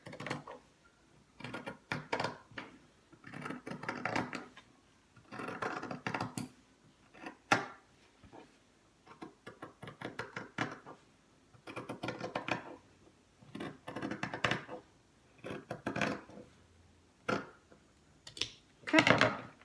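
Scissors cutting fabric for a sewn waistband, heard as close, crisp snipping and sliding bursts in an uneven rhythm throughout, with pauses between cuts.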